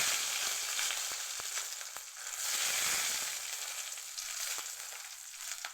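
Mustard seeds crackle and spit in hot oil, a steady close sizzle broken by sharp little pops that keep going throughout.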